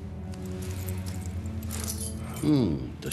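A bunch of house and apartment keys jangles close by, a bright metallic rattle that swells near the end, under men's conversation.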